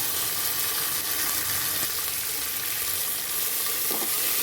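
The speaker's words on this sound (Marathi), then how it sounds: "मी दोन टमाटे घेतले होते बारीक कट करून ते ह्याच्यात टाकून देऊया आणि छान परतून घ्यायचे" Finely chopped tomatoes sautéing in a pan give a steady, close sizzle that holds at an even loudness throughout, broken by a couple of faint stirring scrapes, with no one talking.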